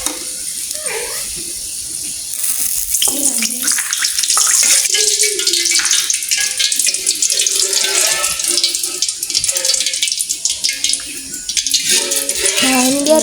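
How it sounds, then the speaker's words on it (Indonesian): Tap water runs steadily into a sink or basin while tempeh is washed by hand, a continuous splashing rush with sloshing and handling sounds, close and fairly loud. "sekarang ini tahap mencuci tempenya"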